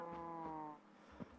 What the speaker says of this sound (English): Oh, stupid cows.